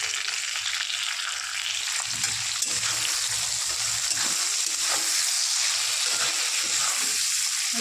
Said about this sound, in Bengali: আর একটু ভাজবো, ভেজে মশলাটা দিয়ে দেবো।